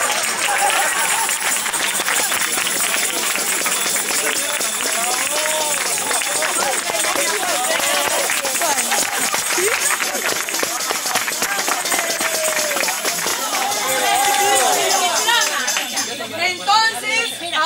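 An audience at a Santa Coloma de Gramenet ceremony claps steadily as the honoree comes up to the stage, dense applause lasting throughout, with crowd chatter mixed in.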